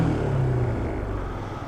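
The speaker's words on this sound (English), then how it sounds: "Let me go ahead and fire up the engine here." Yamaha SMAX scooter engine firing up, a low rumbling idle that settles into a steady close-up drone with no voices.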